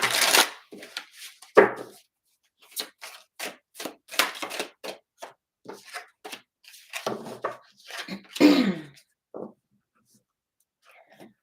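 Tattoo Tarot deck being shuffled, with a series of crisp riffles, slaps and card flicks up close in irregular bursts, some soft breathy sounds between them.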